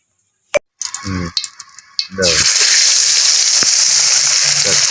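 Tilapia pieces drop into hot oil in a pan and burst into a loud, steady sizzle that fills the rest of the clip, after a few sharp knocks and clatters at the start.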